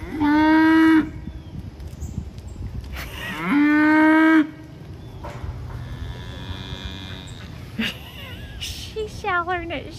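A cow named Dee Dee moos loudly twice, each call long and harmonic-rich and close by, followed by quieter outdoor ambience with a voice talking and a brief higher animal cry near the end.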